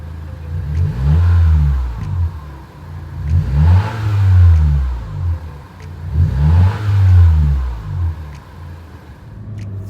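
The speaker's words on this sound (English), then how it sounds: "Setting off on a stock 10th gen Honda Civic." A stock 10th-generation Honda Civic 1.5L engine revs up in three repeated surges while accelerating, each rising then easing off, loud and close with a deep droning stock exhaust note and no talk.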